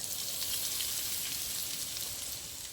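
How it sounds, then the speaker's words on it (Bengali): Coconut milk squeezed from grated coconut hits hot oil, producing a loud, dense, continuous sizzle and crackle like heavy rain, close up and steady throughout with no voices. "নারকেল কোড়া থেকে দুধ বের করে নিয়েছিলাম তার থেকে অল্প একটু দিয়ে দেবো গরম তেলে"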